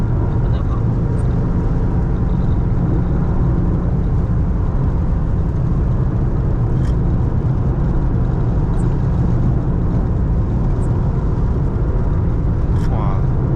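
A 2015 Maserati Ghibli S V6 cruising on a highway in Malaysia, heard from inside as a loud, steady engine drone and road roar, with a person talking over it.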